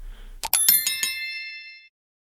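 A bright bell sound effect rings out as a quick run of about four strikes, each tone ringing on and fading out over more than a second.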